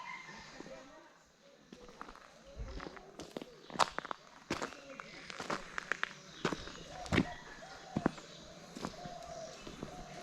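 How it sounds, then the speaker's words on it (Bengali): Footsteps walk along a quiet forest road in a wildlife reserve, a series of crisp steps close by with birds calling around them in the stillness. "কতটা নিস্তব্ধ শুধু আমার পায়ে চলার শব্দ"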